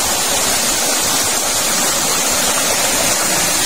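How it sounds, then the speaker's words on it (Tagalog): A waterfall on Alimatok Mountain, the first of seven falls, roars as a loud, steady, dense rush of water heard up close with no voices. "this is the first falls out of 7"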